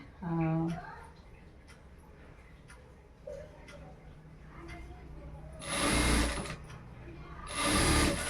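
A domestic sewing machine stitching a blouse runs in two loud, close whirring bursts near the end, each lasting about a second. A voice is heard briefly at the start, with quiet handling sounds in between.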